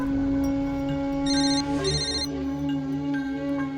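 An electronic phone ringtone plays a repeating melodic pattern, steady and moderately loud, over a humming background.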